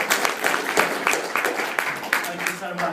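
Audience applause at a hypnotist's talk to a business group, a steady patter of many hands clapping for a few seconds at moderate loudness, with a speaker's voice mixed in over it.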